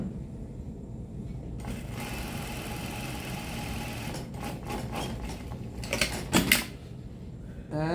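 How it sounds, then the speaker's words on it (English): A sewing machine stitches a shirt front into the under yoke with a half-inch shoulder seam, a steady mechanical whir running almost throughout, with brief sharper clattering bursts near the end. "I sew the front into the under yoke, the under layer."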